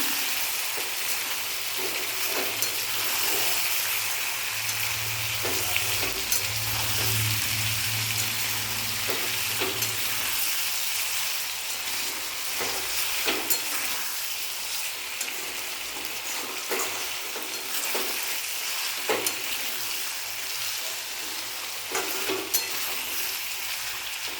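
Ripe tomatoes and coriander leaves frying in a pan make a steady, close sizzle, with repeated scraping taps from stirring spread across the stretch and no talk over it.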